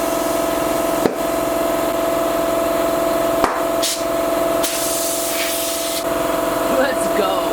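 Steady hiss of compressed air filling a tire, continuous and close, broken by a few sharp clicks and knocks.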